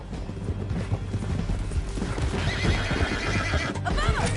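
A horse in the Red Dead Redemption 2 video game whinnies loudly amid rapid galloping hoofbeats, with clattering action noise filling the short, busy stretch.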